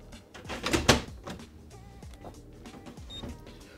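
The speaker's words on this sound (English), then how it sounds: "For the reward chart, we need the matte paper that we just slide into the printer." A Canon PIXMA TS7650i printer draws in a sheet of matte paper, giving a close, brief motorized whir and feed rattle with a louder burst near the start, then lighter mechanical clicks and rolling.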